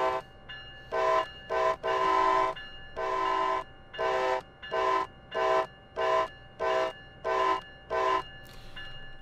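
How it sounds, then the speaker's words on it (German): An American locomotive's bell in Train Sim World, Northeast Corridor New York, chimes in an even series of about a dozen loud, evenly spaced rings at departure, with no voices. "Dieses Klingeln ist auch üblich für amerikanische Züge am Anfang"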